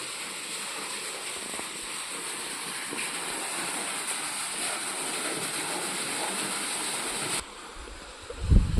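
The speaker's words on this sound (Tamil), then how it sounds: "ஒரு போர்வெல்லுங்க ஒரு சப் மோட்டர் தண்ணி விழுந்துட்டு இருக்குதுங்க" Water from a borewell submersible motor pours down in a steady, close rushing stream on a coconut farm, unchanging for several seconds before it abruptly cuts off near the end.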